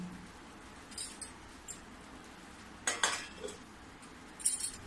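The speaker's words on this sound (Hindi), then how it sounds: "गैस को मैं बंद कर दी हूँ और चाशनी को मैं ढक देती हूँ।" A lid is placed over a pot of sugar syrup, making a few quiet metallic clinks and a brief clatter near the middle, with faint scrapes in a quiet kitchen.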